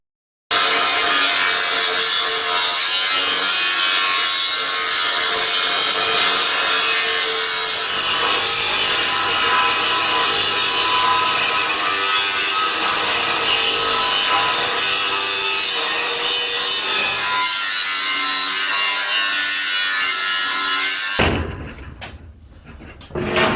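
Hand saw cutting through wood for an engine stand, a loud rasping rhythm of rapid back-and-forth strokes sustained for about twenty seconds before the cut finishes and the sawing stops.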